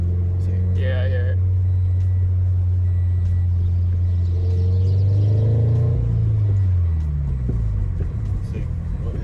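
Inside an 86 fitted with stiff BC coilovers, a steady low rumble of road and engine builds as the car hits a bump, then shifts and fades, with voices talking over it.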